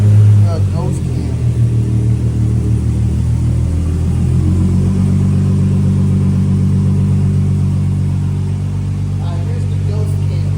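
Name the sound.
mini truck engine with aftermarket ghost cam tune, rotary-like idle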